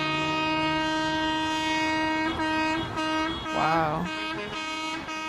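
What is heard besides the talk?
trucks honking their horns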